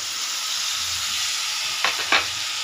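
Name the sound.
ridge gourd pieces frying in oil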